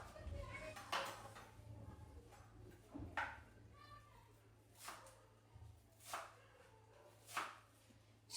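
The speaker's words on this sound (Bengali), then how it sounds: "এখন এই যে ধনিয়া পাতাগুলো কেটে রেডি করে নিই।" Knife chopping fresh coriander leaves on a board in a home kitchen, about a half-dozen faint, irregular sharp cuts spaced a second or so apart, with quiet talk and a low steady hum beneath.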